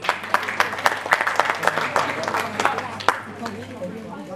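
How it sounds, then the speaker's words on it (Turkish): Audience applause at a poetry contest award ceremony, a steady wash of many hands clapping with sharp individual claps standing out, close and fairly loud, with a voice speaking over it at times. "alkışlıyoruz."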